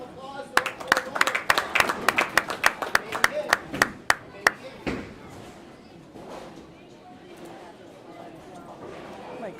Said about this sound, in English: Let's give a round of applause to our bowler.